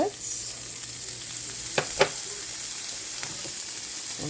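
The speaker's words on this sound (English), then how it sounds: "we can get our olive oil started in our pan. And into that, we can do our carrots" Carrots and onions sizzle in olive oil in a pan, a steady bright crackling hiss with a few sharp clicks of a utensil against the pan, no voices.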